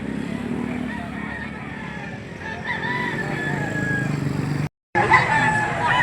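Chickens and roosters at the Lipa livestock auction market in the Philippines, with crowing and clucking mixed into a continuous crowd din and voices, and a brief dropout before the noise resumes.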